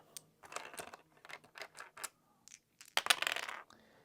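Plastic dice for the HeroQuest board game clatter and tumble across a tabletop in a string of quick rattling bursts, ending in a louder final roll up close.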